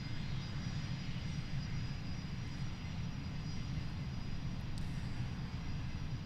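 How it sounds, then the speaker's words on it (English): An Airbus A350 jet flies past at Boeing Field as a loud, steady roar of engine noise that stays broad and constant throughout, with no voices. "Yep, that's flying right behind me right now. A350."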